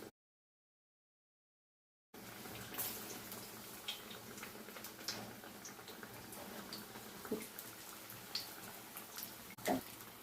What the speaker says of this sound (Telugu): ఇలా మిగతావన్నీ కూడా వేయించుకోవాలండి ఇలా మధ్య మధ్యలో తిప్పుకుంటూ మాడకుండా చూసుకోవాలి